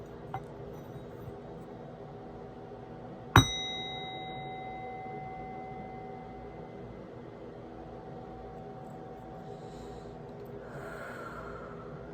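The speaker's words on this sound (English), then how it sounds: "just do a quick sound off with this bell, just to bring in the spirits more" A small bell is struck once during a spiritual reading, giving a sharp, bright ding that rings on and slowly fades over several seconds above a quiet room hum, with no talking.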